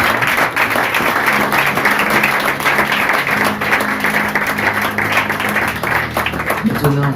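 A church congregation breaks into sustained, dense applause that stays loud and even throughout, with voices mixed into the clapping.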